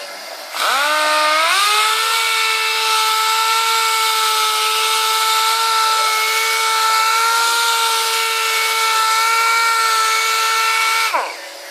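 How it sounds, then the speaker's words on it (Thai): An air-powered sander fitted with a sponge buffing pad whines steadily at a constant high pitch after a quick spin-up, running continuously nearby before cutting off abruptly. "หัวขัดเรียกว่าเครื่องลม นะครับเป็นเครื่องขัดกระดาษทรายเรามา"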